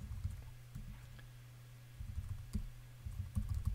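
Typing on a computer keyboard while entering text into a WordPress site setup form: soft, close, quiet key clicks in short irregular bursts with brief pauses, over a low steady background hum.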